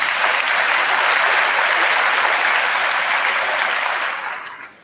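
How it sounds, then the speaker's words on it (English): Dense, sustained applause fills a large hall during a high school commencement ceremony, holding steady at full strength before tapering off quickly at the end. "Please give those folks a round of applause"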